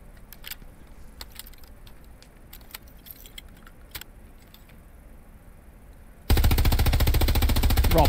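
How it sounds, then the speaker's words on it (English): Machine gun suppressing fire in the WWII shooter Hell Let Loose erupts loud and close as a rapid, steady burst after several seconds of quiet, with faint distant clicks and pops before it. "I'm going to lay down some suppressing fire."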